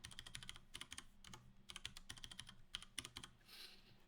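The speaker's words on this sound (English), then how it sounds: "we're going to have to put in a password" Fingers type a password on a computer keyboard, rapid clicky keystrokes in bursts with brief pauses between, close and crisp, ending in a soft rustle.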